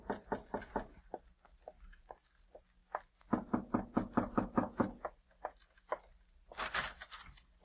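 Knocking at a front door in a radio drama: several sharp raps in quick bursts, a short pause, then a longer run of firm knocks, with lighter taps near the end, close and clear with no talking.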